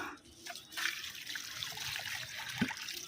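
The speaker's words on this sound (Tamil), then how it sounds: "தண்ணி ஊற்றிக்கிடுவோம்." Water is poured onto a soil mix at the base of a guava tree, a soft, continuous trickle and splash at close range with a brief louder splash near the end.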